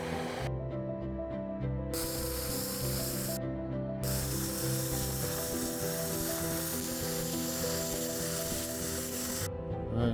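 Inner welds laid on a 2nd Gen Tundra 9-inch IFS front differential during a swap into a 1st Gen Sequoia: a continuous close crackling, buzzing arc with steady loudness and a few brief breaks in the hiss, with no talking.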